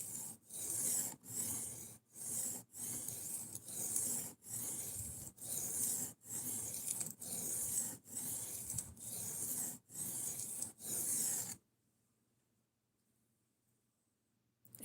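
A knife edge of MagnaCut steel at high hardness is drawn back and forth to remove the burr, giving about a dozen evenly spaced rasping strokes, close and crisp, before falling silent.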